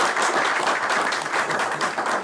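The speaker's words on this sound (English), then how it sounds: "Round of applause for him." Steady applause from a conference crowd, a dense wash of clapping that holds at an even level throughout.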